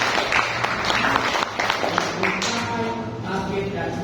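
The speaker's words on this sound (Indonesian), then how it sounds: "Kita beri tepuk tangan dulu Pak Effendi." An audience at a business event claps for Pak Effendi, brief scattered applause mixed with crowd murmur and some voices underneath.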